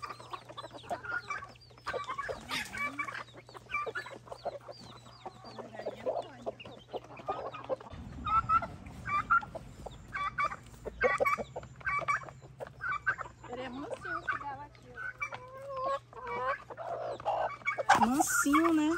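Chickens and a rooster on a rural Brazilian farm cluck and chatter steadily and close by, with a brief louder squawk near the end, while people talk over them throughout.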